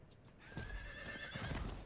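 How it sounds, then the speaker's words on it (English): A horse neighs with a long whinny and its hooves clip-clop in the video game Diablo IV, the call rising clearly after a quiet start, close and moderately loud. "I completely forgot we had a horse."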